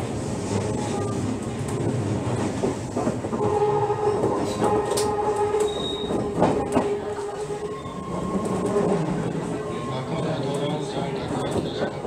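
Odakyu Odawara Line rapid express train running between Shin-Matsuda and Odawara, heard from inside as a steady loud rumble with rail clatter and squeals throughout, with announcements in the background.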